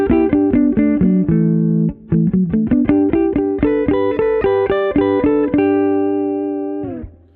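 Electric guitar fill picked so that at least two strings ring on each attack, a fast run of bright, overlapping notes that settles into a sustained final chord fading out, with no talking.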